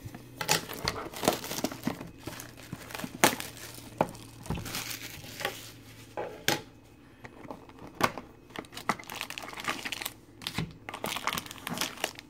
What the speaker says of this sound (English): Let's rip this open and see what we got